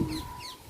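Hens clucking close by at a backyard hen coop, a short burst of soft clucks that fades over under a second, with no talk.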